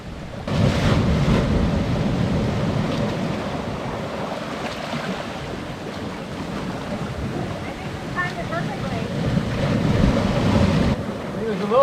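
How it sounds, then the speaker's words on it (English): Sea water pours through a notch in the rocks into a frothy lagoon at Compass Cay in the Bahamas, a steady, loud rushing wash mixed with wind buffeting the microphone, with a few faint voices near the end. "When water pours over the notch in the rocks, it causes a froth to form on the surface of the water"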